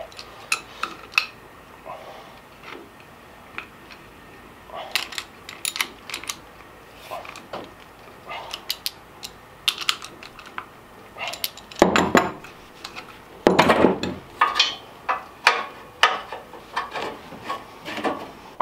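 Sockets and wrenches clink and rattle as metal tools are sorted and handled during a lawn mower oil change, with scattered sharp taps and a few louder clusters of clatter, close by and without talk.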